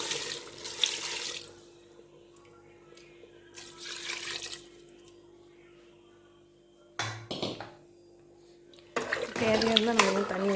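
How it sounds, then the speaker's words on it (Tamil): Water splashes from a vessel into a pot of country chicken curry in bursts, with pauses in between, and a voice talks over parts of it near a faint background hum. "நான் இன்னும் கொஞ்சம் மட்டும் தண்ணி ஊற்றுறேன்"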